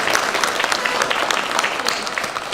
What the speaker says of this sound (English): So let's give our panel a big round of applause.